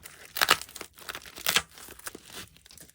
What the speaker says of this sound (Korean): 진짜 오랜만에 포카 양도를 받아가지고 뜯어볼게요